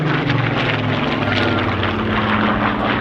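A Supermarine Spitfire propeller fighter flies at a Scottish airshow, its piston engine giving a loud, steady, throbbing drone that fills the whole stretch.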